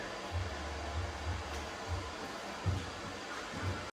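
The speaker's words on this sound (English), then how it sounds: "This is an extractor, which spins basically like a washing machine, except straight up and down." A honey extractor spins frames upright like a washing machine, giving a steady low mechanical whir with a rhythmic low thumping pulse running through its whole length, close by and with no talk.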